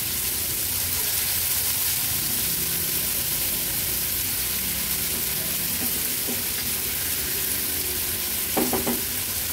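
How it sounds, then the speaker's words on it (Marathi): Finely chopped onions and two green chillies sauté in hot oil for a squid kheema, giving a continuous loud sizzle with occasional scraping stirs of a spoon against the pan and no talking. "कांदा व्यवस्थित तेलावर परतून घ्यायचा आहे।"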